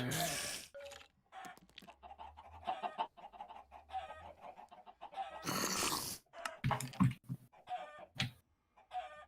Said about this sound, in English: Why are you murdering chickens over there?